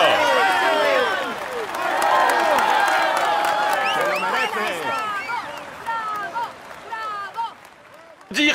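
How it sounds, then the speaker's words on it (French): A large roadside crowd at a Tour de France stage applauds the yellow jersey, sustained clapping and cheering with whoops and shouting voices throughout, loud and close, thinning slightly toward the end. "Allez, on l'applaudit encore."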